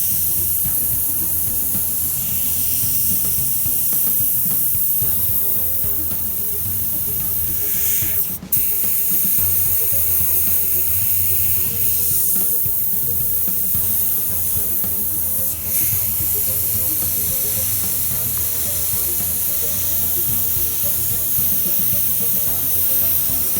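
An airbrush sprays paint onto a 1978 Chevy van in one continuous, loud, close hiss, with a couple of brief dips where the airflow stops for a moment; there is no speech.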